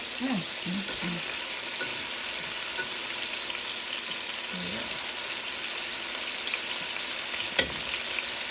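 Oxtails brown in a frying pan, giving a continuous close crackling sizzle with a soft hum beneath, a faint voice murmuring briefly, and one sharp tap near the end.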